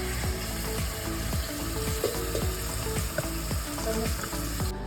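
Ground masala paste tempering in hot oil in a home kitchen, a continuous crackling sizzle under regular scraping strokes of a spoon stirring the pan.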